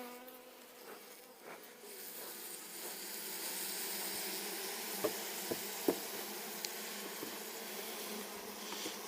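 A swarm of honeybees hums loudly and continuously during a smoked hive inspection, with a few sharp knocks or taps from handling the hive breaking through the steady buzz.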